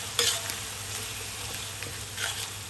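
Pork being stir-fried in a pan for yellow egg noodles, the meat broken apart as it cooks: a quiet, steady sizzle with a few soft scraping stirs near the start and end, no voices.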